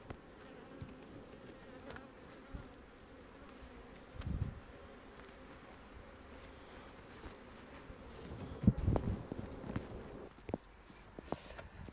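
Honey bees hum in a low, steady drone around backyard beehives holding a super and a half, with a few louder bursts of buzzing and brief handling knocks close by.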